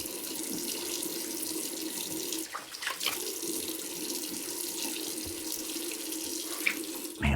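Tap water runs steadily from a bathroom sink faucet as a man rinses his face after a wet shave with a safety razor, a continuous close splashing stream with a few brief disturbances and no talking.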